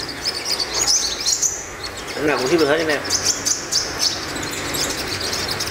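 A yellow-bellied five-colored sunbird, kept as a caged bird, gives bright, high, rapid chirps and twitters close by, partly under someone talking.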